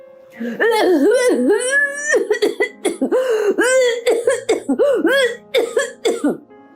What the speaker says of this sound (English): Somebody was coughing.